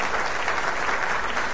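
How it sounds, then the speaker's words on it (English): An audience applauds the Indianapolis Colts in a broadcast show setting, a dense, steady burst of clapping heard close and fairly loud across the whole moment without pause. "Come on and let's give them a round of applause, please."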